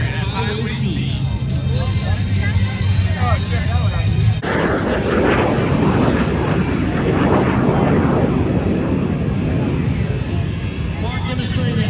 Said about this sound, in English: demonstrating an excellent thrust-to-weight ratio of the Alpha Jet as they accelerate 140 miles an hour